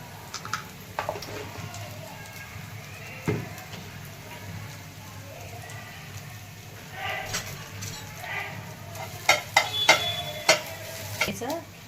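Garlic, cumin and mustard seeds crackle and sizzle in hot oil, with steady frying hiss and several sharp pops and stirring clatters toward the end, fairly quiet overall.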